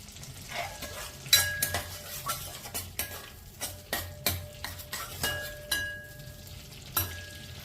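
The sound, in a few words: onion added to melted butter and stirred in a pan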